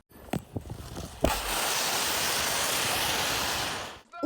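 A few sharp bangs and thuds, followed by a loud sustained blast of hissing roar that cuts off abruptly near the end.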